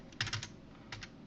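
Keys clack on a computer keyboard in two quick clusters of a few strokes each, close but soft, with quiet room tone between.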